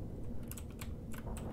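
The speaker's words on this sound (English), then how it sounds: "I got a very clacky keyboard," Clacky computer keyboard keys typed in bursts of sharp clicks at close range, several distinct key strikes over a steady low background hum, no talking.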